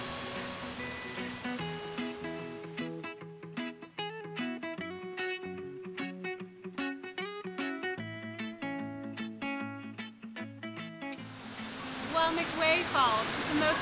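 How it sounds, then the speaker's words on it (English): Rushing water of Salmon Creek Falls in Big Sur, California, roars at the start and end, and a melodic plucked tune plays over it in the middle. "The waterfall is magnificent, and you can even see fish in the clear water."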